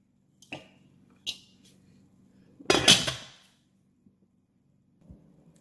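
A metal lid set on a pot of yellow rice with luncheon meat: a few light clinks, then a brief louder clatter and rattle as the lid settles, with quiet gaps between.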